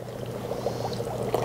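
Hot water is poured onto dry ice to make giant bubbles in a kids' science experiment. A steady, close pouring and bubbling hiss continues over a low hum, with no voices.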